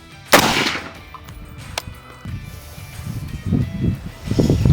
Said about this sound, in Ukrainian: І четвертий постріл.